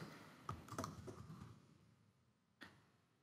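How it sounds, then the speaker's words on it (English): A name is typed on a computer keyboard, a short cluster of quiet key clicks followed by a pause and one final keystroke, with no talking. "And now we'll type in the name of our district leader"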